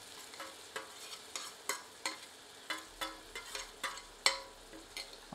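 Finely chopped ginger, garlic and green chilies fry softly in a pan over medium heat, with a gentle sizzle punctuated by repeated scraping and stirring strokes at an irregular rhythm.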